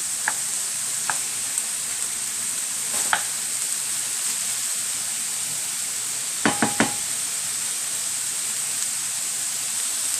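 Chicken fries steadily in a pan for honey mustard chicken, a constant bright sizzle with a few sharp knocks and utensil taps scattered through it, no voices.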